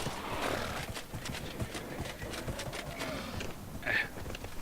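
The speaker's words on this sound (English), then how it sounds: "I can't ride my horse into there." A horse galloping in the video game Dragon Age Inquisition, its hooves thudding in a steady clip-clop rhythm under a wash of game ambience and music, with a brief whinny-like cry near the end.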